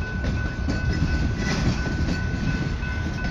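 A BNSF freight led by locomotive 7203 rolls slowly out of Denver with a manifest consist, giving a steady, close rumble of railcars and faint wheel clatter that continues throughout.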